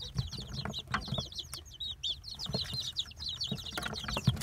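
Nagasaki and Kikiriki bantam roosters and hens cluck in quick, overlapping bursts among a small flock, fairly close, with shuffling and scattered movement noises between calls.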